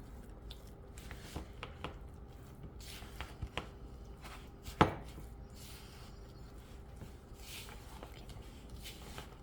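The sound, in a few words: mixing cottage cheese with a spatula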